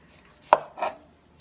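A knife slices through juicy green tangerines on a cutting board, one sharp cut followed by a softer second stroke, close and isolated with no talk.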